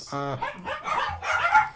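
A dog gives a short sharp bark up close, then further muffled yips and barks follow in a quick scattered burst.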